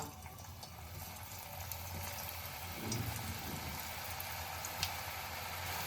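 Crispy mung dal pulipitha with coconut filling frying slowly in hot oil over low heat, a soft, steady sizzling hiss, quiet and continuous with a faint bubble or two.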